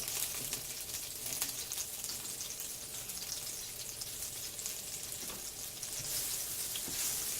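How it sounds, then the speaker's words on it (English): An onion fries in grease in a pan as the start of a gravy, giving a steady crackling sizzle, close and even throughout with no talk. "Okay, now I have my grease in here. I'm going to start on my gravy. I'm going to put my onion down in here."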